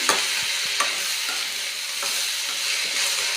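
A peanut and sorghum (jonna) snack mixture is stirred through hot tempering in a pan, giving a steady close sizzle with regular scraping and rustling strokes, no voices.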